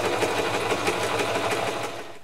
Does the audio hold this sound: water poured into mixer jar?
no